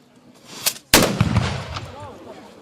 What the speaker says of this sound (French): Une meilleure explosion.